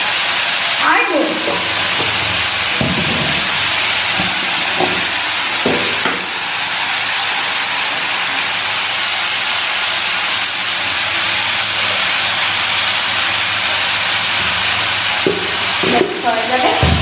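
Fried vegetables with added turmeric powder and salt being stirred in a hot pan in a home kitchen, a continuous loud sizzle and hiss with occasional scraping strokes of the spatula against the pan.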